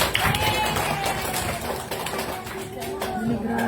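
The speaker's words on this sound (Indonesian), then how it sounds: "Kalau gitu kasih tepuk tangan untuk kita semua." Short burst of applause from a group of participants in a classroom activity, scattered clapping mixed with cheerful voices and chatter close by.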